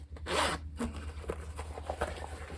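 A zipper on a zippered pocket inside a knitting bag is pulled in one quick close rasp, followed by a few softer short tugs, with no talk.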